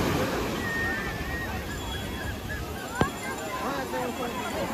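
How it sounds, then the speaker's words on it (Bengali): Steady roar of ocean surf washing in, with a broad rushing wash throughout and faint voices talking underneath. "খুব সুন্দর বড় বড় ঢেউ আসছে, খুব গর্জনক ঢেউ।"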